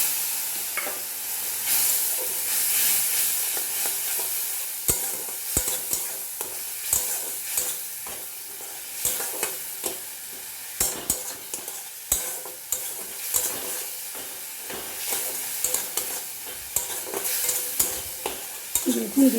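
Spiced pointed gourd (potol) with a splash of water being stirred and sautéed in a pan, a continuous sizzle broken by frequent spatula scrapes and taps, close and steady.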